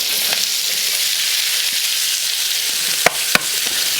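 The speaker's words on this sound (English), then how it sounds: "go in with our onion" Chopped onion frying in oil in a paella pan on a Kamado Joe grill, a loud continuous close sizzle with two sharp utensil clicks toward the end.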